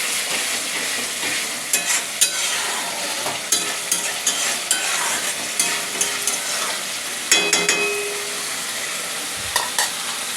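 Spice paste fried in oil in a pan sizzles steadily as water is added for curry gravy. A ladle stirs with regular scraping clicks over the continuous hiss, with no voices.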